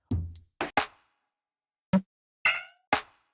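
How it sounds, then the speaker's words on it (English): Six short, dry percussive hits sound one after another with uneven gaps, like electronic clap samples played back in isolation. "this clap is actually super cool"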